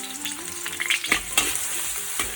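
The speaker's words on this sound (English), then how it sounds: "heat some oil in your wok, put in your onion and let it fry until it's golden brown" Onion fries in hot oil in a wok, giving a constant close crackling sizzle with a few stirring scrapes and soft pops, and no voices.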